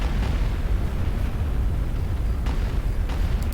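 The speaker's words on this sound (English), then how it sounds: "And let's bomb that army outpost" Orbital bombardment in Star Wars: Empire at War pounds an army outpost, a dense continuous rumble of overlapping explosions with scattered sharper bursts, loud and steady throughout.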